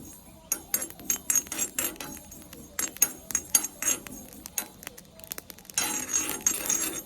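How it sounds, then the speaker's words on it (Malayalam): Mustard seeds popping in a hot pan while cooking an irumban puli recipe, a quick run of sharp crackles and small bursts, dense and fairly close, with a steady sizzling hiss underneath. "കടുക് പൊട്ടി വരുന്നുണ്ട്, കരിയാൻ പാടില്ല കേട്ടോ"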